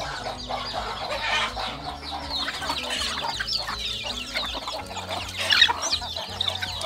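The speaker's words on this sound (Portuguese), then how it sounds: "A galinha aqui que tá valente aqui." A hen clucks repeatedly, close by, with other chickens and farmyard fowl calling around it on a Brazilian farm; no talking.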